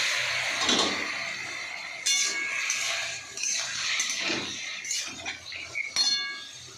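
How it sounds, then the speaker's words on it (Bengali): Vegetables go into a pan of cooked-down spice paste, giving scattered clinks and scraping knocks of a utensil against the pan along with soft sizzling, all heard close and without talk. "তো বন্ধুরা এই যে মশলাটা কষা হয়ে গেছে, এবারে সবজিটা দিয়ে দেবো।"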